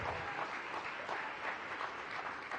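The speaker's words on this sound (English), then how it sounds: "A huge round of applause for Robert." Steady, moderately faint applause from an audience at a disability rights event fills the room, a continuous wash of many hands clapping without pause.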